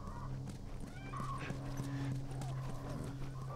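In The Last of Us video game, a horse's hooves clip-clop in a steady walking rhythm, with a soft whinny and low ambient game music underneath.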